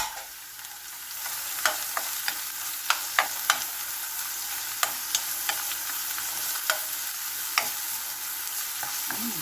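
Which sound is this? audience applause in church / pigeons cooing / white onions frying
white onions frying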